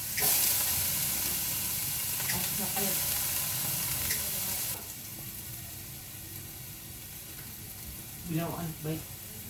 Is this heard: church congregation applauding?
no